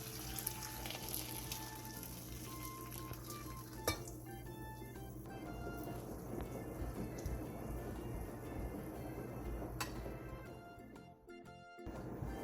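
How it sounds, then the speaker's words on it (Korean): Boiling water pours steadily onto salted cucumber and radish with a liquid, sizzling rush over a low hum, a few light clinks along the way, fading briefly near the end. "10분 뒤 끓는 물을 부어 다시 10분간 절여주세요."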